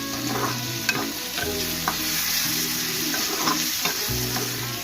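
Dried fish pieces (karuvadu) stirred in a pan over a low flame, with a steady sizzle of frying and repeated scraping strokes of the spoon at an even, unhurried rhythm, close and clear with no talking.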